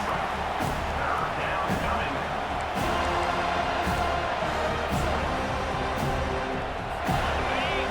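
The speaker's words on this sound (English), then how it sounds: "Decibels rising as the crowd gets behind this defense on 3rd down." Dense, steady roar of a football stadium crowd in a college football video game, Miami versus FSU, swelling continuously on a defensive third down with a few sharp thuds over the din.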